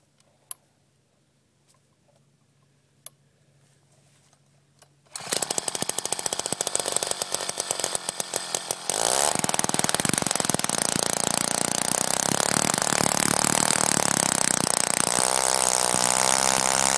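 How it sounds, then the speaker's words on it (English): Powered ice auger drilling holes in frozen lake ice at Whiteshell Provincial Park, a loud continuous motorized roar that starts abruptly after a quiet wintry stretch and grows fuller and steadier as the bit bites in. "I'm gonna drill a few holes"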